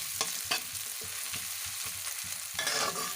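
Chopped onion hits hot oil in a wok and fries with a close, steady sizzle, broken by regular scraping stirs about every half second.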